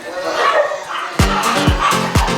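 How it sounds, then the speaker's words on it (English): Several loud, close dog barks in a quick irregular series, following a stretch of murmuring voices and background noise. "Crazy dogs."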